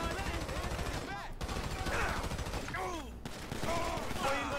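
Sustained gunfire in GTA 5 during a Vagos versus Ballas gang war, rapid overlapping bursts of automatic weapons and shots rolling continuously, with someone talking over the shooting.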